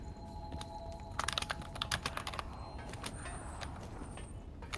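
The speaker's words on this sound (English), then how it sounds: "Hold on, I'm typing secret messages to chat." Keys clack on a computer keyboard in quick irregular bursts, faint and close over a low steady background hum, with no talking.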